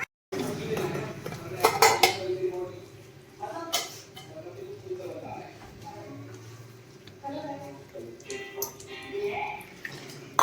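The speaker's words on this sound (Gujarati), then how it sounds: "ખીરાને બરાબર મિક્સ કરવાનું" Gram-flour batter for pudla being mixed in a bowl, with clinking of a spoon against the bowl and soft wet stirring, while people talk nearby throughout.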